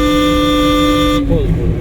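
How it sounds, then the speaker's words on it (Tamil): A car horn sounds during a driving lesson, one long steady honk that stops abruptly, followed by engine and road noise in a moving car. "அவங்களுக்கு ஹார்ன் அடிக்கணும்னு சொன்னால் அடிக்கணும்."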